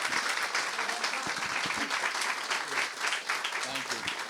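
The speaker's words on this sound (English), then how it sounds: "a big, big clap and warm welcome to Matt Kendall." Audience at a comedy show clapping to welcome a comedian to the stage, a dense, sustained roar of applause with some cheering voices mixed in, loud and continuous throughout.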